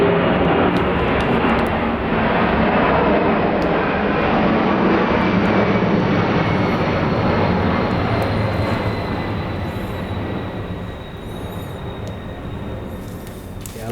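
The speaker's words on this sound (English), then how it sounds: "And sorry for the planes." Continuous roar of airplanes passing overhead near an airport, a broad steady rumble holding for many seconds and easing slightly toward the end, loud and close, no talk over it.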